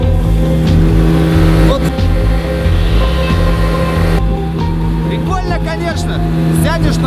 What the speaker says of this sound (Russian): а теперь вот на лодке, на моторе